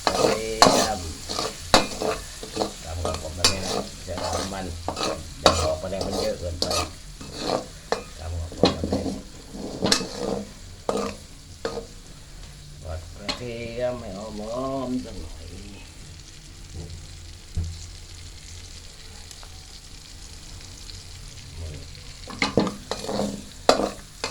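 Kale and crispy pork stir-fried in pork lard, with loud, close spatula scrapes and clanks against the wok in a steady rhythm over a continuous sizzle, pausing briefly midway before the stirring resumes.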